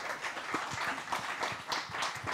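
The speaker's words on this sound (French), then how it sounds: "Allez, on peut l'applaudir." Audience at a rugby-themed innovation pitch event in Toulouse applauding the next speaker, a dense, even wash of clapping from a moderate crowd, somewhat distant and sustained throughout.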